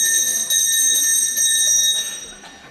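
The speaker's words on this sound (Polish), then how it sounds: "Dzwoniła pani Marysia i wychodzili na przerwę" An electric school bell rings loudly and continuously, signalling the start of break in a school corridor; a steady metallic clang sustains throughout and fades slightly toward the end.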